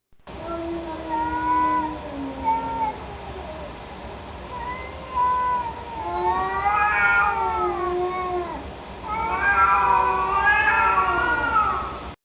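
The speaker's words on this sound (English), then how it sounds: "The caterwaul, well, it's the noise that a cat makes when it's scared, but prepared to fight" A cat caterwauls in long, wavering, rising and falling yowls, loud and close, growing more intense toward the end.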